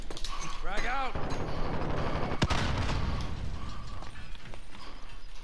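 A frag grenade in a video game goes off as one sharp, loud blast partway through, amid voices talking and mechanical clicking before and after.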